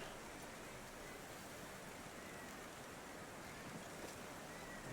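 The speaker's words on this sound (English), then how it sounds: "And now it starts to rain." Rain beginning to fall in The Thaumaturge, a steady broadband hiss of rainfall and wash that holds even and continuous throughout, with no voices.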